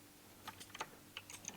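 A computer keyboard is typed on during a Python computer-vision coding lesson, with about a dozen close, crisp key clicks in irregular quick bursts and no talking.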